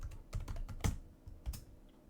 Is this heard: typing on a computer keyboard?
yes